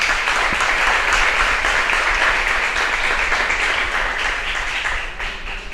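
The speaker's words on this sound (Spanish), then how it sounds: "Denle un fuerte aplauso al Señor por eso." A church congregation at a praise and thanksgiving prayer session claps together in loud, sustained applause that fills the room, gradually easing slightly toward the end.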